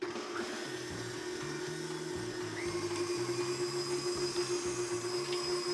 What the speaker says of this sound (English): I have 1 stick of unsalted butter. I'm gonna beat this with 1/3 cup of sugar. I'm gonna beat this until it's nice and fluffy.